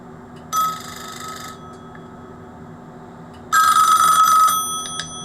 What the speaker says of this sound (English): And if I can do it while I'm ringing the phone, we'll see if it actually makes any difference to it, shall we?